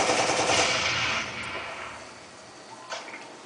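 Turret gunfire in the video game Ghost Recon: Advanced Warfighter, a dense rattling burst that is loud at first and tapers away, followed by a couple of faint, sharp reports near the end, with no voices.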